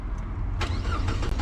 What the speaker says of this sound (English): Can you turn the car on?